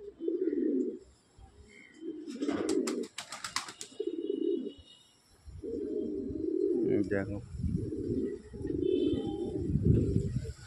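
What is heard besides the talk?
pigeons cooing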